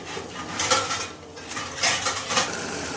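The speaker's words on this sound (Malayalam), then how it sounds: "നമ്മളിതൊന്ന് മൂടി വെച്ച് കൊടുക്കാം." Metal pot clatter over a mushroom fry on low flame, with a few close clanks and scrapes as the lid is set on the pan, moderately loud, no voices.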